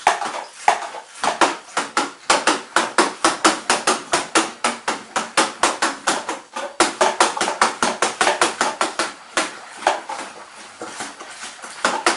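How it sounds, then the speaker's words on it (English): A spoon stirring a Young's cider kit mixture in a container, making a fast run of rhythmic knocks and scrapes against the sides with only brief pauses, close and fairly loud, with no voices. "Give that a quick stirring."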